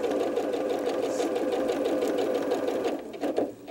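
A sewing machine stitching a quarter-inch quilt seam, with a steady, close mechanical whir and rapid needle chatter that slows briefly near the end.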